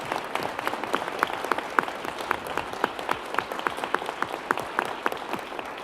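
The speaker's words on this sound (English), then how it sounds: "Ladies and gentlemen, another round of applause for Ranjit de Sousa." Audience applause at a Detroit Economic Club member meeting, a steady patter of many hands clapping at moderate distance, with individual claps standing out crisply throughout.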